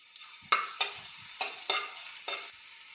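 Grated garlic and grated ginger dropped into hot oil for a ragi vegetable soup, sharp sizzling bursts with spoon stirring, five or six distinct hisses that flare up and settle, with no voices.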